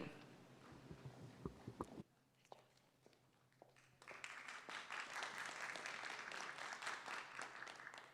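Applause for two presenters at a school district meeting, very quiet, follows a stretch of soft murmuring and small knocks, then rises into a sustained, moderately dense round of clapping over the final four seconds.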